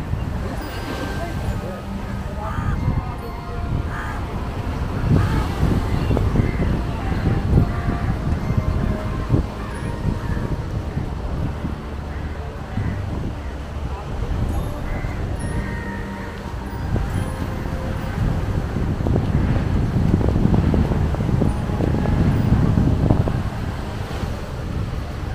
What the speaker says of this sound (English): So much windy area.